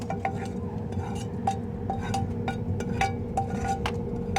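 Bacon and cheese being added to warm smoked pit potatoes in a pan: utensils clink and scrape against the pan in irregular taps over a low steady rumble, close and moderately loud.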